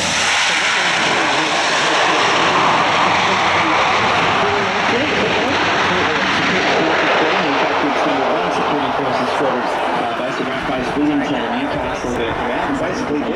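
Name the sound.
C-130J Hercules military aircraft making a short landing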